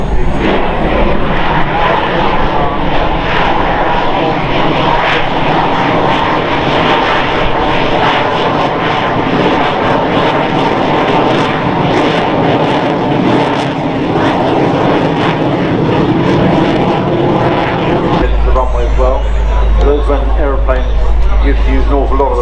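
Aircraft flying low and slow at the Farnborough Airshow, drifting down to touch down on the runway, its engine roar loud and steady throughout with crowd or commentary voices mixed underneath.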